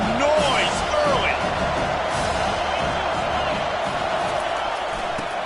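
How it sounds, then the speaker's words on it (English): Stadium crowd at a football game roaring and cheering throughout, a loud sustained wash of voices with scattered whoops and shouts close around. "Crowd bringing the energy and noise early."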